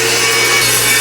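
A saw rips a wooden picket lengthwise into a 2.5-inch strip, giving a continuous, loud, close-up cutting whine and rasp for the full moment with no talking.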